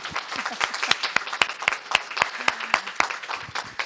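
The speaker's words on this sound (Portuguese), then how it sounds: "Eu queria só que a gente aplaudisse a nossa colega que contou o nosso tempo" A small audience in a session room claps for a colleague who kept time, with individual sharp claps standing out in a loose, uneven rhythm, close and clear.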